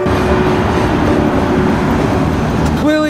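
A train rumbles past nearby, a loud continuous roar with rattling undertones and a steady hum, ending as a voice starts to speak over it.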